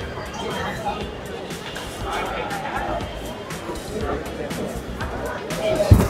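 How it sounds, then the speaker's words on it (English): Dense crowd chatter and general hubbub fill an outdoor arts festival at Kala Ghoda, a steady wash of many voices nearby, with one brief louder knock near the end. "there's a huge crowd here"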